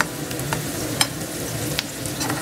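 Food sizzling and frying in a pan, a steady close crackle with a few sharper pops and stirring scrapes, no voices.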